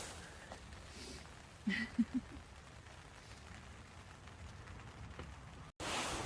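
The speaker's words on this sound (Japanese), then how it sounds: "外は雨です。" Rain falls outside a camper at a campsite in Kyoto as a faint, steady hiss, with a few soft knocks partway through.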